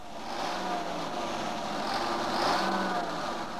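An American two-stroke diesel engine of an M10 tank destroyer runs with a steady, loud mechanical drone and a slight rise in intensity midway.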